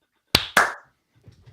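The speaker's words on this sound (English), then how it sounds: "Let's clap." Two sharp hand claps from a small group of podcast hosts in a studio, close and distinct, followed by a short near-silence with faint soft sounds.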